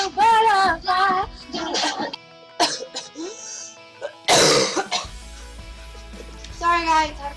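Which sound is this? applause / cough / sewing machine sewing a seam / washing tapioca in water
cough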